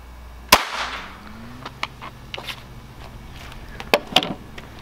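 A Ramset powder-actuated tool fires a .22LR round with one loud sharp crack near the start, followed by fainter clicks and a second smaller report near the end, with no talk.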